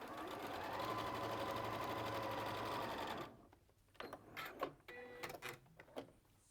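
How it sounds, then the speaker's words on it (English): A sewing machine stitching quilt triangles runs in a steady, close whir for about three seconds, then stops, followed by a few short bursts and clicks as the fabric is handled and repositioned. "And you just carry on sewing down."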